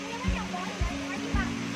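Mountain stream below Dinaugan/Kadaugan Falls, a steady rushing flow of water with a few splashing thumps close by as voices talk over it.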